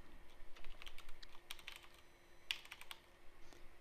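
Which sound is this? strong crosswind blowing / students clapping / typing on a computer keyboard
typing on a computer keyboard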